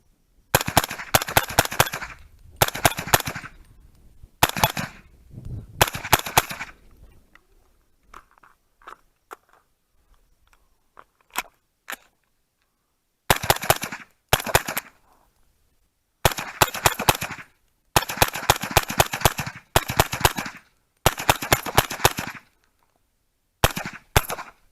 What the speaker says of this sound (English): I'm just going to shoot it and just test the function of this V30 Feyachi red dot